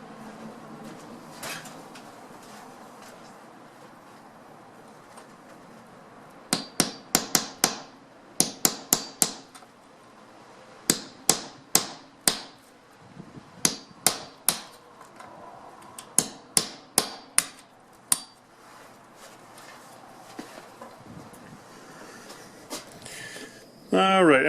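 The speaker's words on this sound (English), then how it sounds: "it's a little chiseler, right, and a hammer, so I'm going to do a little banging away at it" A hammer strikes a small chisel against a stucco wall while a round vent hood duct is installed, sharp metallic bangs in quick clustered bursts separated by pauses, close and fairly loud over faint background noise.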